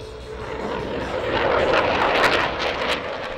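A Rafale fighter jet passes at an air show, its roar swelling steadily into a loud, broad rumble that holds to the end.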